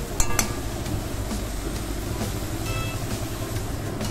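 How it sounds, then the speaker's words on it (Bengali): Potato and already-boiled carrot are stirred together while frying in a little oil in a pan, giving a continuous loud sizzle with clinks of a utensil against the pan near the start and no talking. "তো আলু আর গাজরটা একসঙ্গে ভালো করে ভেজে নিচ্ছি।"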